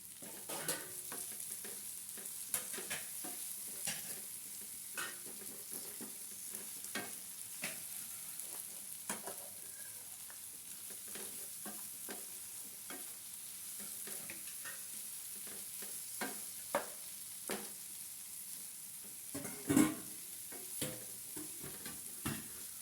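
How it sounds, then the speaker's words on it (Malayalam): Masala with coriander leaves and curry leaves stirred in a pan for chicken macaroni: a quiet, steady sizzle under repeated close scrapes and taps of a spoon against the pan, with no voice. "മസാലയിലോട്ട് കുറച്ച് മല്ലിച്ചപ്പ് കറിവേപ്പില ഇടുന്നുണ്ട്. ആയിട്ട് മിക്സ് ചെയ്യാം"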